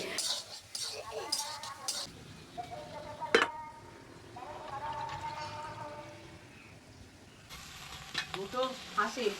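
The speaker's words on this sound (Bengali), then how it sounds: "পেঁয়াজটা আগে ভাজা বসিয়ে দিলাম" Oil sizzles steadily as onions fry in a pan, with occasional clinks of a utensil and a sharp knock partway through.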